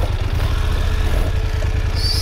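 A motorcycle idles with a steady, low, throbbing rumble while the rider maneuvers it slowly over loose rocks, the engine close and continuous with no talking.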